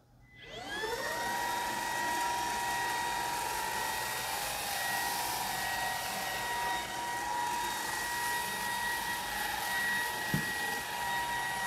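A Dibea F20 Pro cordless vacuum cleaner switching on and running, a motor whine rising quickly to a steady loud high-pitched drone with a brief bump late on, no speech.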